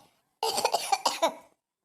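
A single close, moderately loud cough bursts out in a rapid run of several short hacks, following a moment of silence and fading quickly, from someone who has a cold and a sore throat while sweeping during Diwali cleaning.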